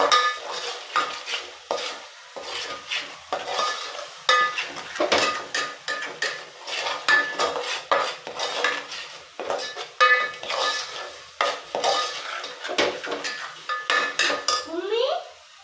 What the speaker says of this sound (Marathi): चांगलं भाजून घ्यायचं तेल सुटेपर्यंत मसाला.